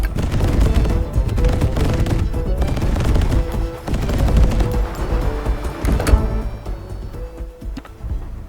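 Cannons fire in the Mortal Engines-style game Wanderburg, a dense, continuous barrage of booming, rattling shots layered over game sound, loud and close throughout.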